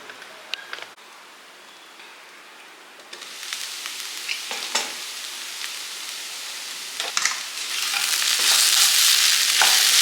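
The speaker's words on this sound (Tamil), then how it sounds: "மிதமான தீயிலே 2 நிமிஷத்துக்கு குக் பண்ணிடலாம்." Poriyal, a vegetable stir-fry, frying in a pan over a medium flame, a steady close sizzle that swells louder toward the end, broken by a few sharp stirring clatters.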